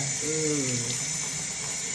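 Tap water runs steadily into a sink to warm up for rinsing a dirty motorcycle air filter, a close, continuous splashing rush with a brief voice murmuring beneath it.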